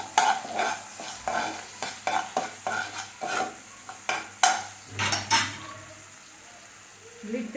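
A spoon scrapes and clatters through a chicken satay mixture with red chilli sauce and cashews in a pan, rhythmic stirring strokes over a soft sizzle, with faint talk in the background.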